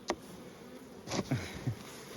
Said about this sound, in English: Nice lot of bees up the top here.